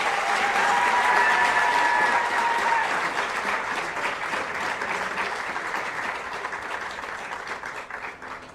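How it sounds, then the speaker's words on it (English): Sustained audience applause at a formal public lecture hall event, a dense wash of many hands clapping, loudest at the start and slowly tapering over several seconds without voices. "Another round of applause"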